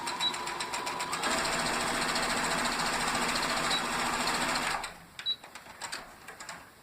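A sewing machine stitches quilt binding strips in a steady, fast whir for several seconds, then stops, followed by a few soft handling clicks and taps nearby.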